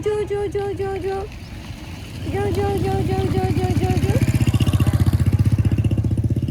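A tractor engine runs close by with a deep, steady rumble that settles into rapid, even pulsing, after a short melodic tone sequence at the start.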